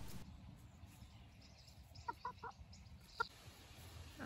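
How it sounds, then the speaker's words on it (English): Hens loose near a garden fence, clucking faintly a few times in short bursts against a quiet outdoor background. "Uh-oh, the chickens are out too."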